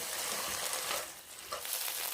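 Bracken fern is stir-fried over medium heat with soy sauce and minced garlic, making a steady, soft sizzle with faint stirring movement, close by and with no talking.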